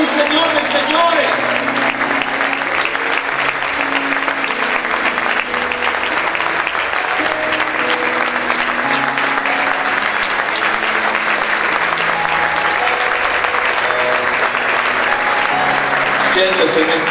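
Congregation applauding loudly and steadily in a church service, a dense, continuous wash of clapping with music underneath and a voice faintly audible through it.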